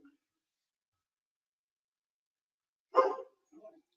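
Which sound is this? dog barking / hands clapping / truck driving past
dog barking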